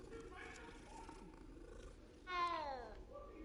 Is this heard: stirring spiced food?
no